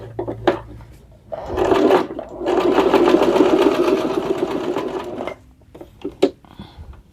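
A domestic sewing machine runs in one sustained burst of stitching, a steady rapid whirring rattle, loud and close, framed by brief clicks and handling noises before and after.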